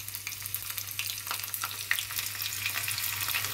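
Onion frying in oil for a Telugu dal tempering, with mustard seeds and cumin already in the pan: a steady, close hiss of sizzling with scattered crackles and pops throughout, no voices.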